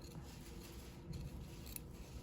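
Scissors trim the fabric seam allowance of a notched collar, giving a faint, quiet snipping and rubbing sound against low background noise.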